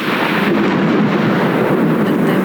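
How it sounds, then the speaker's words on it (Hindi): Rumbling thunder rolls steadily throughout, a loud, sustained low roar with a broadband wash and no distinct sharp crack. "लगता है बिजली कड़क रही है।"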